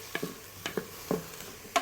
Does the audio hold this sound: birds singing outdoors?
no